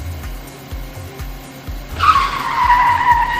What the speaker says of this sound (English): The car is out of control, and I can't stop it.